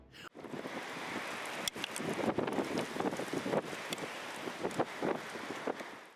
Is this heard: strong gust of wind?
yes